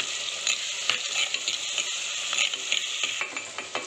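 Tomatoes with a pinch of salt sautéing in a pan for a spicy crab fry, a close sizzle with frequent short scraping and tapping stirs at an irregular pace.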